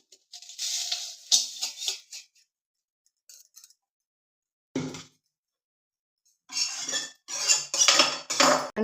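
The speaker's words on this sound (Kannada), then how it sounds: "ಇವಾಗ ಇದನ್ನ ಬೇರೆ ಪಾತ್ರೆಗೆ ಹಾಕ್ಕೊಳ್ತೀನಿ." Roasted semolina (rava), being made into soft rava idli, is tipped from the pan into another vessel. Metal utensils clink and scrape in short bursts, separated by brief silences, with no talking.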